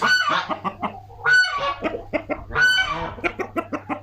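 Chickens and a turkey in a village coop, mixed with an Indian breed bird, cluck and call in a busy run of harmonic bursts, close and fairly loud, with a steady low hum beneath.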